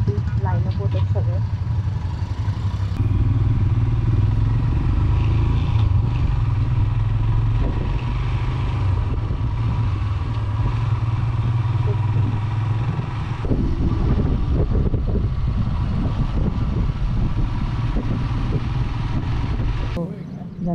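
Motorcycles line up for a group ride convoy, with a steady rumble of idling engines close by and some clatter throughout, under continuous talk.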